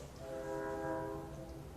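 Train horn sounding in a sustained, chord-like blast from a passing train, swelling and fading over about two seconds, faint and distant.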